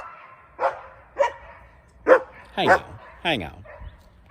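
Dogs bark five times in short, sharp bursts, loud and near, the later barks rougher and more strained, with a man's brief words between them.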